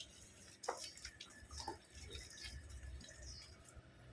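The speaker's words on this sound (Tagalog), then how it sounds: "umapaw na yung tubig doon" Water from a tap runs and spills over at low volume, a soft continuous splashing and trickling with a few sharper drips, with no voices.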